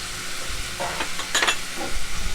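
Turmeric, chili and cumin masala frying in oil while being stirred in a pan for a Bengali puti fish curry: steady close sizzle with scraping spatula strokes, no talk.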